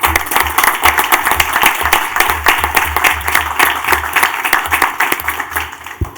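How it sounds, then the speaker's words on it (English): Applause at a community college Board of Governors meeting, a room of people clapping steadily and fairly loudly in a continuous patter. "I want to note for the record that Member Grande was the loudest applause."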